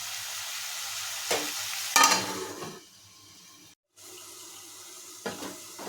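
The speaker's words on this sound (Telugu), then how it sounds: "వంకాయలు కొంచెం రంగు మారేదాకా కొంచెం మగ్గనిద్దాం." Eggplants cook in a pan with a steady hissing sizzle and occasional stirring scrapes, close by; the hiss thins midway, cuts out briefly, then resumes.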